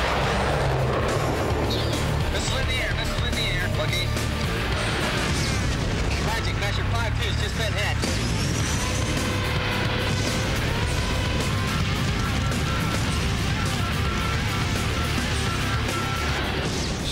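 A dramatised missile strike on a fighter jet over Bosnia fills the whole stretch as a loud, sustained roar of explosion and rumbling debris, dense and unbroken throughout, with no speech.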